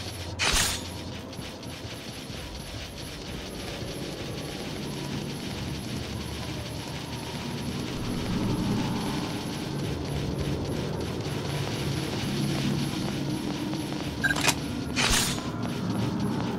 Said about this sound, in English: Send the chopper.